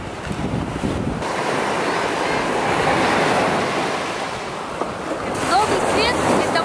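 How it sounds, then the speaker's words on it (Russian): Foamy sea surf washing onto the shore at Novy Svet in Crimea, a steady broadband roar of breaking waves, close and loud throughout, with wind buffeting the microphone. "Море, море,"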